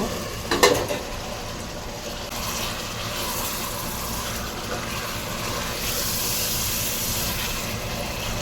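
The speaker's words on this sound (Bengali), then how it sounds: "এখন আমি এই মাছটা দিয়ে 2 মিনিট এই মশলার সঙ্গে কষিয়ে নেব।" A rohu fish head fries in spice paste with a continuous sizzle, a sharp clatter of the utensil early on, then steady stirring and hissing.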